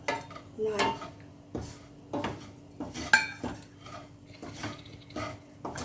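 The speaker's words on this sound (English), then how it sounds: "quickly I will add all the dry fruits and will stir, will not stop stirring" Dry fruits are stirred in a pan for semolina, wheat flour and gram flour ladoo, with repeated scraping clatters of a spoon against the metal pan in an uneven rhythm, fairly close and moderately loud.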